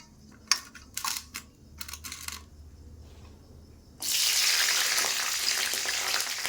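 Green chillies drop into hot oil over a medium gas flame after a few light clinks and taps, then burst into a loud, steady close-up sizzle that continues to the end.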